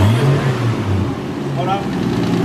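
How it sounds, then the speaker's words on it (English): A Nissan R33 Skyline engine, with an old viscous fan, idles and then revs up close by. A deep, rising and falling engine tone holds steady while someone speaks over it. "Let's give it a bit of a rev."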